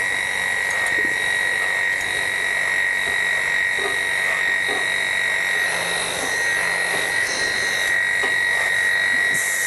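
KM2 electric dog clippers with a 5/8 inch snap-on comb trim bulky side hair on a Doodle. A steady high-pitched motor whine runs continuously, with faint irregular snipping and brushing textures.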